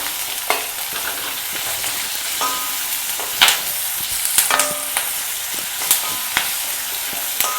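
Sliced onion fries in a pan with green chilli, curry leaves and salt for a Kerala egg and potato mappas, a steady close sizzle broken by occasional spoon scrapes and clinks.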